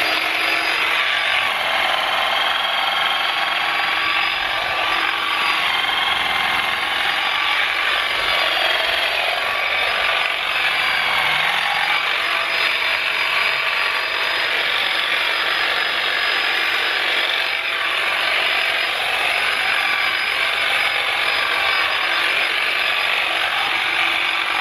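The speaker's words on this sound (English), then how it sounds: "what we do at our house is we always trim these grasses down going into the winter months" A Litheli 40V cordless hedge trimmer cuts down tall grasses before winter. It gives a continuous, loud buzzing whir with a rattling mechanical edge that holds steady the whole time, close up, with no talking.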